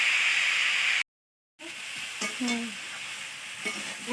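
Vegetables sautéing in a pan, heard as a continuous close hiss of frying that cuts out briefly before resuming, with a few soft stirring taps mixed in.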